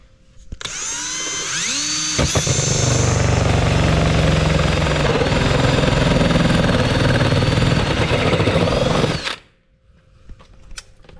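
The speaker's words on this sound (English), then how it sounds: "one right here we're going to have to drill" A power drill whirs loudly and steadily for several seconds while drilling a hole on a 2022 Can-Am Maverick X3 Max, rising as it bites in, then cuts off abruptly, leaving quiet room noise.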